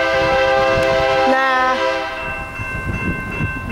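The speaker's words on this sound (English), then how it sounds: "There's a train coming." A CN freight train led by an SD60 locomotive passes close by in Springfield, Illinois, its horn blaring a long chord over heavy rumbling, then the horn cuts off and the rolling rumble continues.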